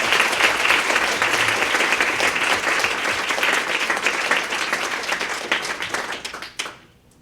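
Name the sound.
audience applause after a session talk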